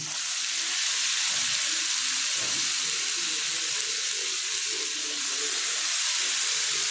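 Cluster beans (gavar) tipped into a hot pan of cooked tomato masala, a steady loud sizzling hiss filling the whole clip with faint stirring knocks underneath and no talking.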